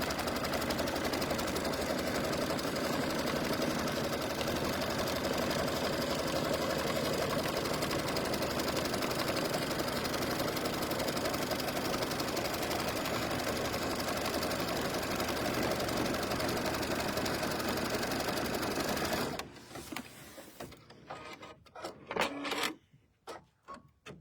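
A sewing machine runs steadily for about twenty seconds while stitching around the edge of a fabric Falling Leaves coaster, a loud continuous whir that stops abruptly, followed by a few scattered handling clicks.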